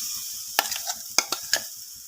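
A ground green pea mixture with spice powder, a filling for mini matar kachori, is stirred in a frying pan: a few distinct scraping strokes over a soft, constant sizzle, with no talk.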